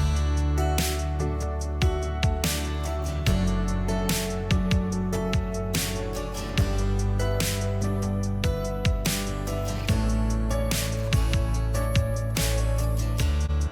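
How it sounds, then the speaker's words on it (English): Short, choppy staccato acoustic guitar plucks repeat in a steady rhythm over a fuller backing track, with crisp percussive hits throughout. "choppy staccato plucks here on the acoustic guitar"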